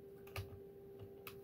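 A few light, scattered keystrokes on a cheap gaming keyboard, quiet clicks spaced apart over a faint steady hum.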